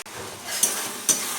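Mashed boiled jackfruit seeds go into a frying spice mix, a soft sizzle with two quick scraping stirs of a utensil in the pan, close and fairly quiet.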